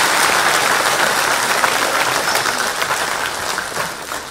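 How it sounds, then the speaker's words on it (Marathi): A crowd at a Marathi political speech breaks into loud, sustained applause, dense clapping that stays strong throughout and eases a little near the end, with no speech over it. "एकदा जोरदार टाळ्या संजयसाठी वाजवा, जोरदार टाळ्या।"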